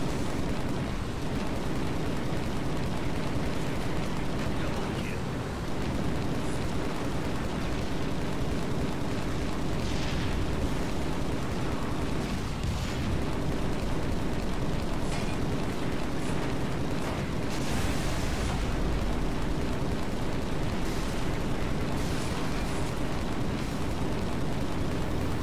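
Frag grenade blasts thrown at a Hornet aircraft in Halo MCC multiplayer on the Avalanche map, heard as dense, continuous rumbling explosions and bursts with a few sharper pops, loud and steady throughout, no talk.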